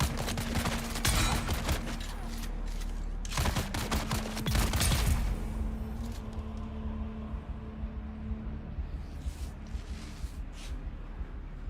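Repeated bursts of automatic gunfire from a gun in the video game Dune: Awakening, loud volleys around the first few seconds then thinner scattered shots, over a steady low engine-like hum.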